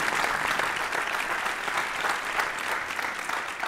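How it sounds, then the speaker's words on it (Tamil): Studio audience on a Tamil television debate show bursts into applause, a dense, even wash of clapping heard close and alone for the whole stretch. "யதார்த்தமாகவே இந்த கைத்தட்டு வந்துருச்சு."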